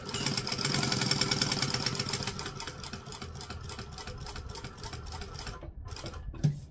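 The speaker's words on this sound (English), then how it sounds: "So I'm now going to stitch around the edge." A sewing machine runs steadily, top stitching at a long stitch length around the edge of a fabric doll, its rapid motor hum and needle chatter continuous and close before slowing and stopping near the end.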